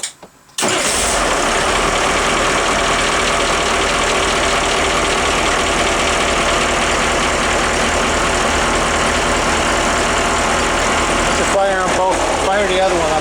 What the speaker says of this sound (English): just go ahead and fire up the other engine